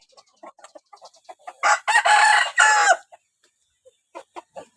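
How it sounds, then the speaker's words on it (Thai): A nine-month-old Burmese game rooster of the Mae Sariang line crows once, loud and close, between scattered soft clucks and short calls. "แล้วก็มีไก่หนุ่มเก้าเดือน"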